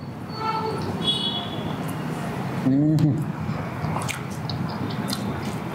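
Butter naan being bitten and chewed up close at a cheap Bangalore hotel serving Hyderabadi biryani, soft squishy mastication over steady restaurant hubbub, with a brief voice cutting in midway.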